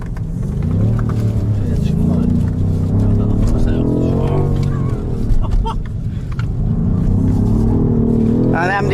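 A BMW M5 Competition F90 or a Mercedes-AMG C63 S Coupé is accelerating from a launch with light wheelspin, giving a loud, close, rising engine roar. The pitch sweeps up and falls back, and voices talk over it.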